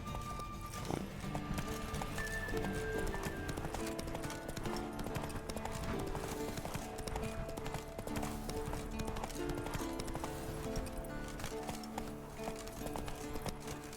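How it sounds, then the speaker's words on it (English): A horse gallops in The Witcher 3, its hoofbeats a steady, continuous clip-clop rhythm held at a moderate level for the whole stretch. "Whoa there, Roach."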